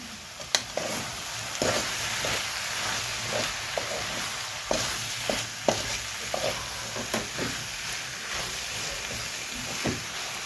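Okra and taro pieces frying in a pan, a steady hissing sizzle broken by soft irregular scrapes and taps of a spoon stirring, close and moderately loud throughout.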